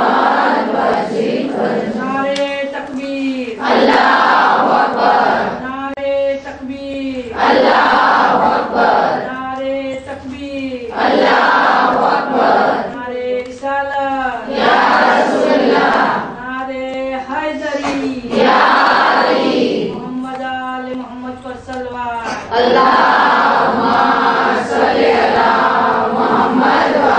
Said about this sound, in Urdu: نعرے تکبیر، اللہ اکبر